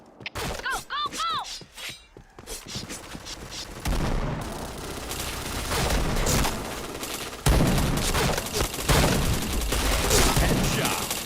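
Rapid bursts of gunfire in the first-person shooter Point Blank, loud and continuous after an opening run of synthetic chirps, with game announcer callouts over the shots.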